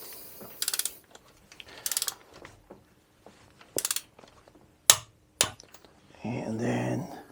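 Ratchet tightening the cylinder head bolts on a Daimler Coupe, heard as short bursts of close clicking separated by pauses, with one brief sharp knock.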